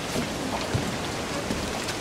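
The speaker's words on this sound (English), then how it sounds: "Don't like the fact the storm's coming in." Steady heavy storm rain at sea in Assassin's Creed IV Black Flag, a dense continuous hiss of downpour with faint low rumbles beneath, loud and enveloping throughout.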